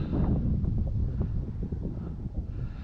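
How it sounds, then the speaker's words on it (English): Steady wind gusts buffet the microphone across an open RC flying field, a constant low rumbling roar with slight swells and no voices. "That wind's out of the due north, so that makes it absolutely cross runway landing."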